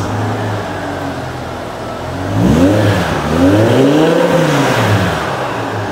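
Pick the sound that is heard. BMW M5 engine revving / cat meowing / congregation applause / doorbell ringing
BMW M5 engine revving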